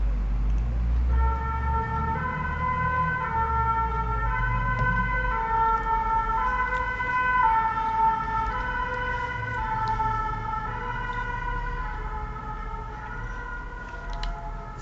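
An ambulance siren passes along a city street, its steady two-tone wail sounding for a long stretch at moderate distance over low traffic rumble, gradually fading as it moves away.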